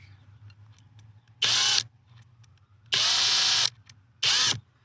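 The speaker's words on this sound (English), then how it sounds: "I'm going to tentatively and cautiously drill these holes." A power drill whirs in three short, loud bursts separated by pauses, with a low hum underneath between bursts, drilling holes to mount a MOLLE panel in a Jeep Gladiator or Wrangler.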